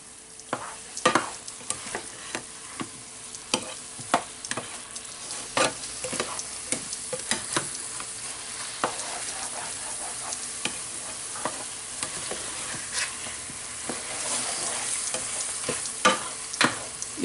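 Beef stroganoff with shiitake mushrooms and a touch of Dijon mustard sizzles steadily in a pan, with repeated sharp scraping strokes of a stirring utensil close by, no talking.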